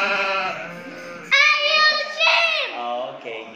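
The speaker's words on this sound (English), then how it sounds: "Okay, you hear sheep." Recorded sheep bleats are played back, two loud, wavering bleats close together in the middle, with a voice speaking around them.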